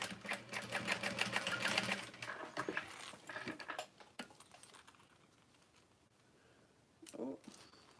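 A sewing machine top-stitches a folded edge on a fabric tote bag, a fast rapid clatter up close for about four seconds, then fading to quiet handling noises with a short burst near the end.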